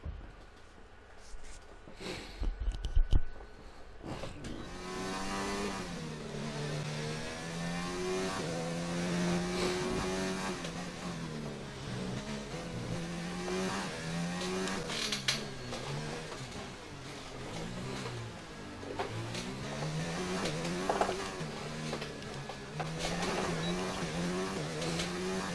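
A Formula 1 car's engine in the F1 2019 racing game, during Monaco practice, holds a steady high-pitched drone that rises and falls with gear changes, with brief gaps near the start.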